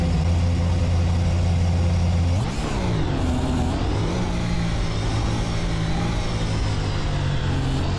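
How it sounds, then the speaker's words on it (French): Simulated McLaren Honda Formula 1 car engine from the Assetto Corsa racing game, a loud steady high-pitched whine that drops and shifts pitch partway through before settling into a continuous drone, with no voices. "Mais c'est vrai qu'ils vont tous le même bruit, hein, ces moteurs de F1."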